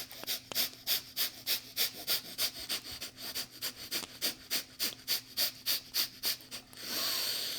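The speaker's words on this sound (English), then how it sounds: "fill up the belly, and exhale, breath of fire." Breath of fire yoga breathing: quick, forceful rhythmic exhales through the nose, about twenty sharp puffs at a steady fast pace, close and clear, ending in a long, steady breath.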